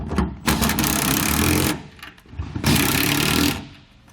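Two bursts of a loud, close power tool whirring in a rapid buzzing rhythm as it snugs down mounting bolts on a CargoSmart X Track cargo organizer, with a short pause between them.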